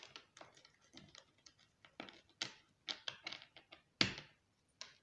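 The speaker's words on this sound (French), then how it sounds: "je vais tirer les cartes, je vais les étaler" Tarot cards drawn from a deck and spread across a table during a reading, giving a string of soft, close taps, flicks and slides in an irregular rhythm with brief pauses, one sharper snap near the end, and no voices.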